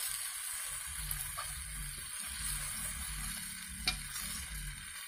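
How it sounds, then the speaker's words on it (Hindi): Mutton fries in spices as a spoon stirs it continuously, a steady low sizzle and hiss with soft scraping and one clear tap against the pan, close but quiet. "अब इसको 4 से 5 मिनट तक ऐसे ही चम्मच को लगातार चलाते रहेंगे"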